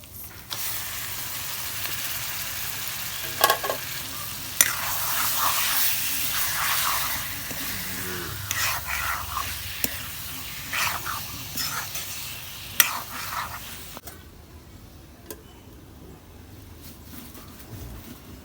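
Chicken meat and onions fry in a pan with a loud, continuous sizzle, broken by occasional scraping stirs and clinks before the hiss thins out near the end.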